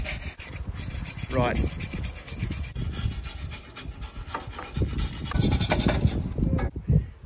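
A brush scrubs a Massey Ferguson TEA20 tractor carburetor clean, with steady close rubbing and scraping strokes throughout, while people talk over and between the strokes.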